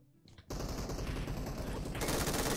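Sustained automatic fire in PUBG Mobile as a player sprays an enemy soldier, a loud, rapid, continuous stream of shots starting after a brief quiet moment and growing slightly denser toward the end.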